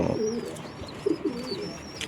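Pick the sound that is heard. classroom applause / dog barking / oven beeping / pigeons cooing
pigeons cooing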